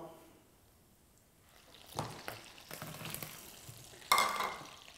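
Potatoes fry in a pan of butter and oil, faint sizzling with scraping and stirring bursts that grow louder near the end, some quiet talk.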